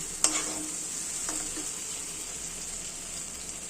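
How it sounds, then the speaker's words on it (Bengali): Onion, ginger, garlic and tomato frying together in a pan make a steady, even hiss, broken early by a few brief clinks of a stirring utensil, then a long unbroken sizzle. "পেঁয়াজ, আদা, রসুন, টমেটো সব ভালো করে ভাজা হয়ে গেছে।"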